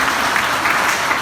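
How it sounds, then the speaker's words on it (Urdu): An audience claps steadily and fairly loudly at a Tiger Force Jhelum gathering in honour of the daughters, a dense, even wash of applause with no pauses. "آپ نے بھرپور تالیاں بجا کر ہماری بیٹیوں کو خراج تحسین پیش کرنا ہے"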